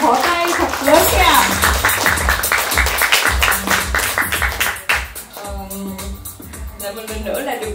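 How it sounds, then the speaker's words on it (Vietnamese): Audience applause welcoming an expert speaker onto the stage at a Vietnamese health talk, a burst of clapping mixed with speech and background music, fading briefly near the end. "Dành cho Mai Trang một tràng vỗ tay thật lớn nha."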